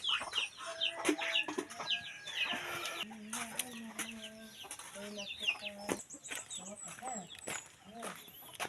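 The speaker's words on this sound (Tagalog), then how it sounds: "Manok." Several chickens cluck and squawk nearby in irregular bursts, with a rooster call mixed in and people talking in the background.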